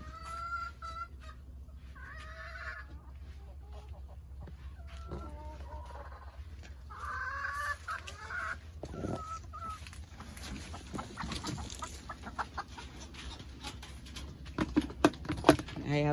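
Backyard chickens in an Orlando garden cluck and squawk in scattered, close bursts over a low steady background hum, growing busier toward the end.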